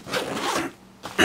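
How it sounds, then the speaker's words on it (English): Zipper on a pocket of a long-term survival bag pulled closed in two quick rasping strokes, close and clear, with no talking. "I'm going to zip that up"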